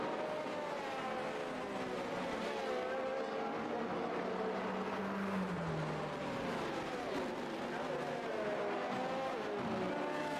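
Race cars in a Formula 1 video game run continuously during a safety car period in Hungary, engine whine rising and falling in steady sweeps, moderately loud with no talking.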